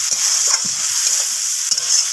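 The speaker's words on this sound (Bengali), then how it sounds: "তো টমেটোটাকে এরপর ভাজা ভাজা করে নেব।" Chopped tomato and slit green chillies fry in hot oil in a pan, giving a steady, close sizzle with a few soft stirring scrapes and no talk.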